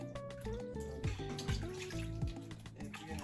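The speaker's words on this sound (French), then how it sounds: "je vais nettoyer un peu avec du vinaigre" Catfish is washed by hand with vinegar and water in a basin, producing close sloshing, splashing and trickling water with gurgling tones, steady and fairly quiet, with no one talking.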